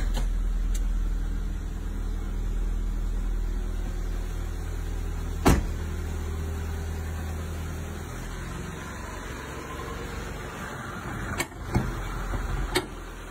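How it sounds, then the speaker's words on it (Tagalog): Power windows on a stock car, a newly arrived used unit, hum steadily as their motors drive the glass up and down, with a few sharp clicks and thumps as the windows reach their stops. No one speaks. "so, automatic up and down, all windows working po yan."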